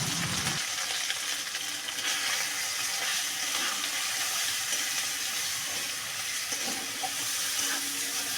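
Ground spice paste sizzles in hot oil in a pan for a vegetarian potato and paneer curry, a steady loud frying hiss throughout with a brief splash-like burst at the start, with no talking.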